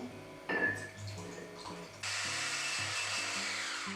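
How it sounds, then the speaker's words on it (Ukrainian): Water is poured in a steady, splashing stream into flour batter for crêpes, starting abruptly after a few soft clinks, with a low hum underneath. "Знову додаю воду"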